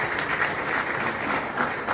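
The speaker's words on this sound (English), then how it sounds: "Let's give him a round of applause." Crowd applause at a government launch event for a rent assistance scheme in Ghana, steady dense clapping sustained evenly across the whole moment, fairly loud and without speech.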